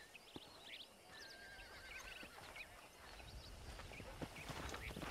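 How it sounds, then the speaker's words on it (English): A pack of wild horses whinnies in Red Dead Redemption, with several neighs rising over the faint, steady outdoor ambience and soft hoof clops, all fairly distant. "There's a pack of wild horses nearby."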